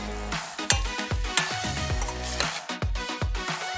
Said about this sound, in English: let the blueberries reach boiling as you stir.